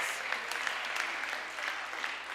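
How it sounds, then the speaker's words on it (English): An audience at a spoken talk gives a round of applause, dense and even clapping that fills the whole moment without any other sound. "give yourself a round of applause."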